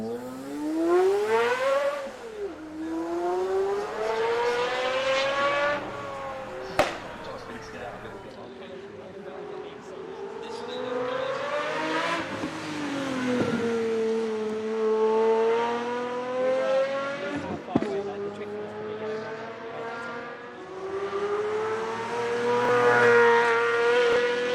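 A Pagani Zonda engine screams around the Goodwood lap, a loud high-revving wail that rises and falls through repeated gear changes and throttle lifts, with faint clicks between shifts.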